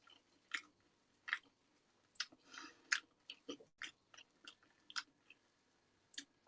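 Close, quiet chewing of a bite of meatballs with bacon and onion gravy and cheesy mash, with soft irregular wet bites and squishes spaced through the mouthful.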